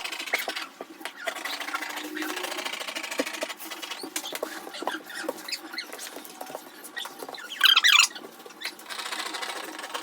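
Scissors snipping through fabric for a blouse, close irregular crunching cuts with brief pauses and a louder rustle of handled cloth near the end.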